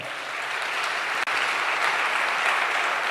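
Church congregation clapping together during a worship service, a dense, loud, continuous wash of applause filling the room with only faint crowd murmur beneath.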